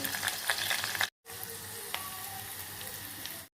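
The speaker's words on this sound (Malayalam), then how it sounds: "ചൂടായ പാനിലേക്ക് ginger garlic paste, cumin seeds, green chilli ഇവയെല്ലാം ഇട്ട് ഫ്രൈ ചെയ്തെടുക്കാം" Ginger garlic paste, cumin seeds and green chillies frying in a hot pan, a loud steady sizzle heard close up. It cuts out briefly, then resumes with a few light scrapes, and no one talks.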